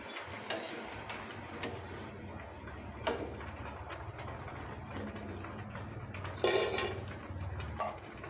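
Freshly fried crisp murukku lifted out and set down on a plate: a few light taps, clicks and scrapes of utensil on plate over a quiet room, with one louder clatter near the end.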